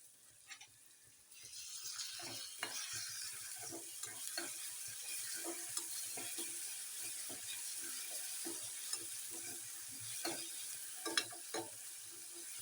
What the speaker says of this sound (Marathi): चांगला भाजू द्यायचा तेलामध्ये